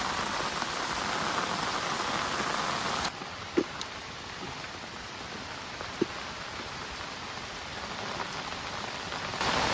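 Steady, heavy rain pouring down over a flooded river in a dense hiss, easing slightly after a few seconds, with a couple of sharp drips or knocks close by.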